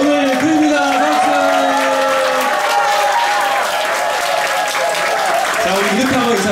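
A church congregation at a Sunday worship service bursts into applause, a dense, loud burst of clapping that fills the room, with voices and musical tones mixed in underneath.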